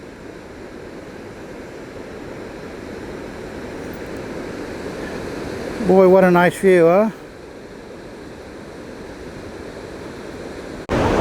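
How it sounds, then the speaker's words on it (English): Steady rushing of small waterfalls tumbling over rocks at Valley Falls State Park, a continuous broadband wash filling the whole scene, with a voice speaking briefly partway through. "And then there's some smaller waterfalls over here"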